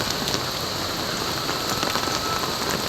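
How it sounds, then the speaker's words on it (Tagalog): Heavy rain falling hard, a dense, loud and continuous hiss of drops hammering surfaces, with no voices over it. "Ang lakas ng ulan."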